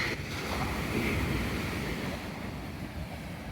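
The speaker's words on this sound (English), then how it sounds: "Sea looks nice and calm today." Calm sea at a resort coastline in Khao Lak, a steady washing hiss of gentle surf mixed with wind buffeting the microphone, fairly faint and continuous with no voices.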